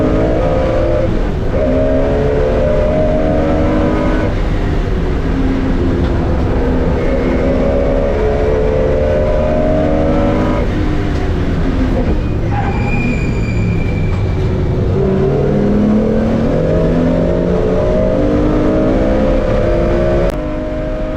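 An MGC-GT Sebring race car engine drones loudly from inside the car while racing at Snetterton, with repeated rising and falling pitch sweeps through gear changes and corners, continuous and close, no talking.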